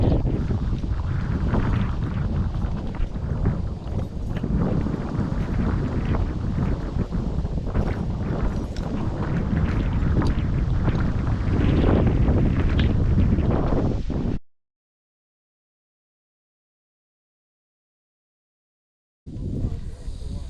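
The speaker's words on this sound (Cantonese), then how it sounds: "因為今日咧就好大風" Strong wind roars steadily across the microphone on a mountain trail on Mui Lam Shan, loud and unbroken for about fourteen seconds, then cuts out abruptly before gusting back in.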